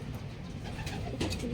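Pigeons in a racing loft give soft, low coos close by, a brief murmuring burst over a quiet room background.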